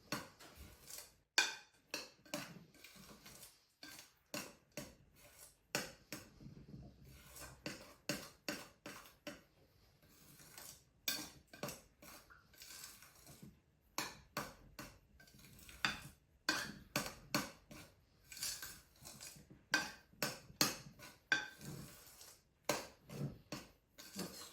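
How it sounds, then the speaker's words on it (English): A flat, old-fashioned knife cuts grated cheese into scone dough in a bowl, giving a long run of quick, close clinks and scrapes in uneven bursts with a few short pauses. "we'll incorporate that using a flat knife, an old-fashioned knife"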